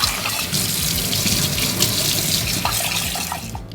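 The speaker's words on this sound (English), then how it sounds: "We're going to give it a quick, simple rinse with just regular water" Tap water runs loud and close as parts of a Giannini stovetop espresso maker are rinsed under a faucet. A continuous splashing rush fills the sink, then cuts off abruptly at the end.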